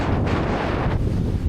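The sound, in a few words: wind on a hilltop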